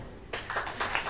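An audience on a Royal Caribbean Grandeur of the Seas cruise ship game show claps, a short burst of applause that starts abruptly after quiet and carries on in uneven waves.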